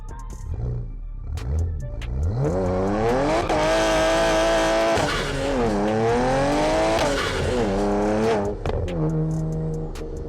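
A BMW E30 with a swapped twin-turbo N54 engine revs hard, rising and falling in pitch through several sweeps over about ten seconds, with a rough, aggressive exhaust note throughout.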